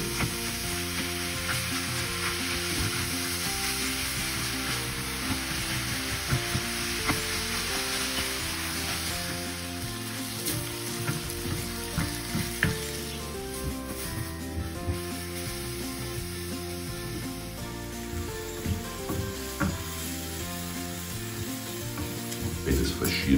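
Minced meat fries with golden onions in a pan, a dense continuous sizzle that runs throughout under background music.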